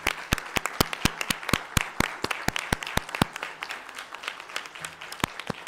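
Applause from a seated audience at a national conference on good governance in Gandhinagar, heard as a run of sharp, evenly spaced claps over a soft background patter that lasts the whole stretch.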